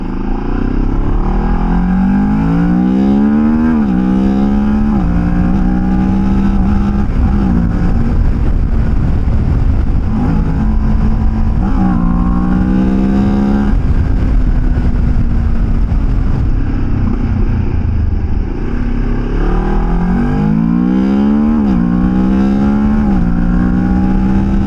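A motorcycle fitted with lowered, shorter gearing pulls away and accelerates hard. The engine is loud and close, rising in pitch through several revving climbs with short drops at the shifts, then steadier running between pulls.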